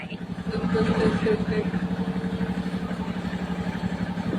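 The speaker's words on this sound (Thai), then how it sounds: "พ่อพานั่งรถไถ" A farm tractor engine runs steadily and close by, its low, chugging pulse holding an even rhythm throughout under faint background voices.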